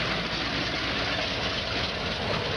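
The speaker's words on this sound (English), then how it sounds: "So they've actually converted trucks to run on burning wood." A North Korean truck converted to run on burning wood, its engine giving a steady, close, rumbling idle-like drone with a dense broadband hiss that holds level throughout.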